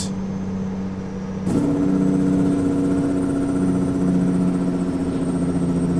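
A truck engine in American Truck Simulator idles with a low steady drone, then the note steps up sharply and holds a loud, even, buzzing rumble as the Jake brake engages.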